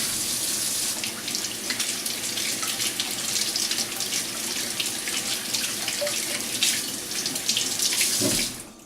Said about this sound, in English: so we'll go ahead and wash them.